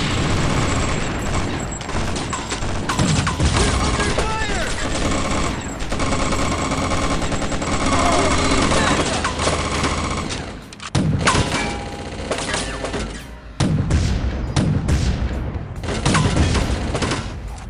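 Loud, sustained firefight gunfire in the Chaser video game: relentless machine-gun rattles and volleys with occasional heavy thuds and booms, briefly easing before surging back at full intensity.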